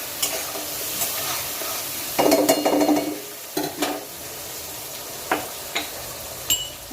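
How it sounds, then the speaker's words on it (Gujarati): Okra and potatoes sautéing in a pan over high gas, with a steady sizzle, a louder burst of frying crackle midway, and several sharp clinks of a utensil stirring against the pan. "અને એને સરસ આપણે ફાસ્ટ ગેસ પર સાંતળી લઈએ"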